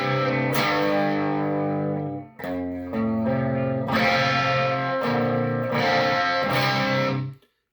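Electric guitar through a Lil Rat distortion pedal, strummed chords ringing out with thick saturated crunch, a few held chords separated by short breaks, loud and alone.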